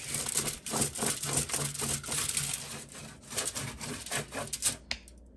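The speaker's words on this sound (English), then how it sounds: "So that's why I got the tin foil here. Just gonna rub it out, so to speak." Tin foil rubbed against a surface to scrub out white residue, giving a close, continuous crinkly scraping in short repeated strokes with no talk.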